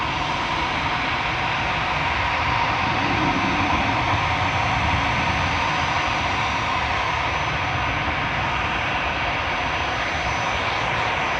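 EasyJet airliner at Manchester Airport, a steady broad jet roar filling the whole stretch, fairly loud and constant with no voices over it.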